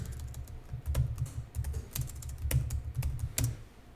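A computer keyboard clatters with a quick series of sharp, close key presses in an uneven rhythm, about a dozen taps over four seconds, with no talking.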